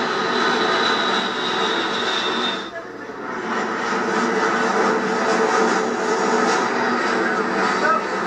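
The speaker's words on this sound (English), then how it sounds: "Dang, they had a lot of planes fly over them." Aircraft engines drone loudly as airplanes fly overhead, a sustained roar that dips briefly and then swells again for several seconds, with people talking beneath it.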